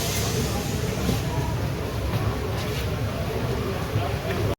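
The Chambal Express rolls into Bardhaman Junction, heard from inside as a continuous close low rumble and rattle of the moving train, with indistinct voices underneath.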